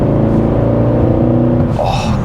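A Mercedes-Benz C63 AMG Black Series V8 rumbling loudly at close range, a deep steady idle that shifts pitch slightly near the end.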